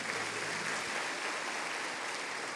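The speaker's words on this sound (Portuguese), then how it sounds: "Se você crê, aplauda bem forte o nome de Jesus." A church congregation claps together in worship, a dense, steady wash of applause from a crowd, fairly distant and even throughout with no voices on top.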